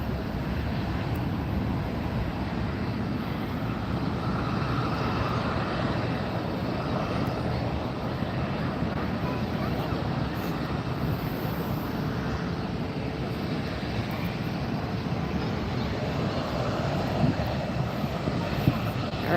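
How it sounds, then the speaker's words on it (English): An Aer Lingus airliner departs LAX for Dublin, a broad, moderately distant jet roar that stays steady and unbroken throughout. "There goes the Aer Lingus on its way to Dublin."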